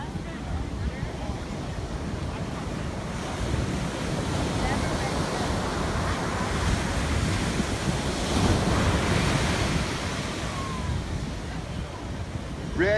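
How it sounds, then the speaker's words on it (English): Big ocean surf rolls and crashes at Sunset Beach on Oahu's North Shore during a surf contest, a broad continuous roar of breaking waves mixed with gusty wind buffeting the microphone. "Big waves crashing outside, Joe."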